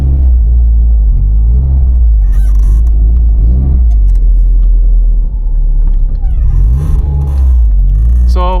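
A turbocharged Subaru WRX GC8 engine runs at a loud, sustained rev, with a deep rumble, a slight dip around the middle, and brief squeaky chirps over the top.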